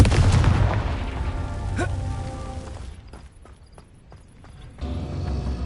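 A Confringo fire spell blasts in the Hogwarts Legacy video game, a loud booming burst that rumbles amid steady game noise before fading into quieter ambience.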